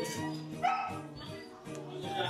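A big dog at a café lets out a few short, fairly close barks and yips in quick succession, mixed with the chatter of nearby voices.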